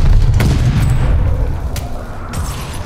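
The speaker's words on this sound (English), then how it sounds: "Stun grenade out!" Stun grenade in the video game Call of Duty: Vanguard: a loud, deep boom opens the clip, followed by rumbling battle noise and a few sharp cracks.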